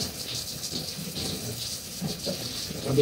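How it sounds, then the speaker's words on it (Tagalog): Continuous rain falls during a flood, a soft steady hiss with faint pattering and no pauses, heard alone at low level. "Magtuloy-tuloy na yung ulan."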